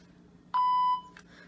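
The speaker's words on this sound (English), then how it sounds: "I pressed the first button and held it down until I heard the beep" A PenFriend audio labelling pen gives a single short electronic beep, a clean steady tone lasting under half a second, close and clear against a faint background hum, followed by a tiny click.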